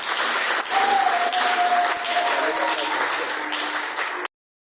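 Congregation in a church applauding for Jesus, a loud, dense sustained clapping from a crowd that carries on evenly for about four seconds before cutting off, with a faint voice tone running underneath.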